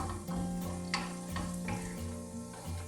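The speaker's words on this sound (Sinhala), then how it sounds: "ඊටතර සොසේජස් ටිකත් මේ විදිහට පොඩ්ඩක් කලවම් කරගන්න ඕනේ." Sausages frying in a pan are stirred for string hopper fried rice, giving a steady close sizzle with light scraping and tossing sounds, backed by a constant tonal hum throughout.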